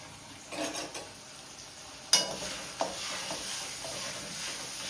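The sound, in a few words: ginger garlic paste and green chillies frying in a pan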